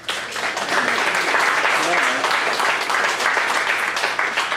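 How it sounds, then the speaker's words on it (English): Round of applause from the audience at a data visualization meetup event, steady dense clapping throughout with a few voices and cheers mixed in. "So everybody give them a round of applause for the space."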